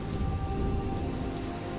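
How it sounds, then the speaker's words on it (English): Steady rain falls on an evening outside an old house, a dense, continuous wash with low rumbling underneath, constant and fairly loud throughout with no voices. "By evening, the rain had not eased"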